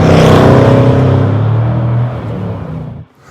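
A Jaguar F-Pace SVR engine roars loudly close by, its deep growl gradually easing off and fading as the car drives away.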